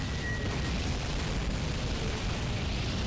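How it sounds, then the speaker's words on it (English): Continuous heavy rumbling barrage of artillery explosions in Call of Duty, bombing Stalingrad, dense low booms blending into a steady roar with no pauses. "Bombs begin to fall on the German defenders, reducing Stalingrad to even more rubble."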